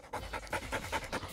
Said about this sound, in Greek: ο συγκεκριμένος σκυλί για αγγλικό setter είναι λίγο νευρικό